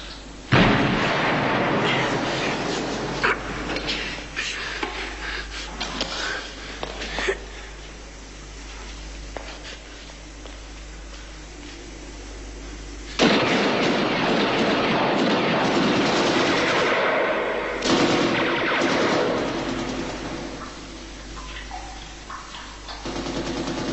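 Gunfire in a prison escape film crackles in long dense bursts like automatic weapons, loud and continuous, with a brief drop partway through before the barrage resumes.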